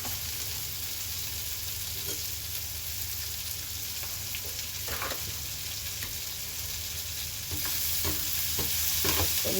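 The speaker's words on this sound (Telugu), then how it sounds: "కరివేపాకు, మిరియాలు, అల్లం ఎల్లిగడ్డ అన్నీ వేసుకొని బాగా కలపాలి." Cabbage stir-frying in a pan with curry leaves, black pepper, ginger and garlic, giving a steady close sizzle with occasional stirring scrapes and clatters throughout, with no talking.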